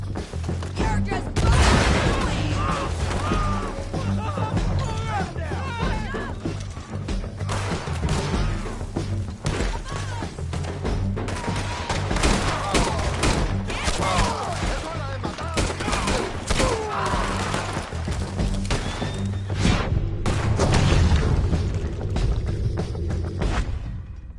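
Heavy gunfire in Red Dead Redemption 2, a dense, sustained fusillade of rifle and pistol shots with booming impacts, loud and continuous for the whole stretch, with shouting voices mixed in.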